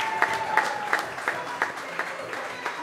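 An audience at a football club's end-of-season awards show claps in a steady, fairly rhythmic way, with sharp regular peaks over a softer bed of crowd noise.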